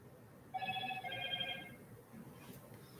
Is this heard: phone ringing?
yes